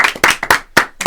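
A short run of loud, close hand claps in uneven bursts during a live comedy show broadcast.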